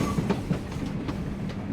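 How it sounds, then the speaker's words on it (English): A train in the video game The Lion's Song rumbles along with a low, steady drone and faint rhythmic clatter of wheels, with no clear braking or halt. "Did the train suddenly stop?"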